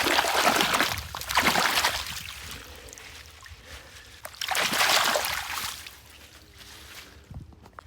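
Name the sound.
irrigation water trickling through a field channel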